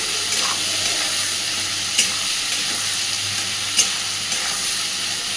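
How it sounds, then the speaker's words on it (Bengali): Onion and potato fry in a pan with a constant close sizzle, broken by a few sharp scrapes of the spatula as they are stirred. "পেঁয়াজটাকে আলুর সাথে ততক্ষণ পর্যন্ত ভাজবো যতক্ষণ না পেঁয়াজটাও সুন্দরভাবে একটু স্বচ্ছ হয়ে আসছে"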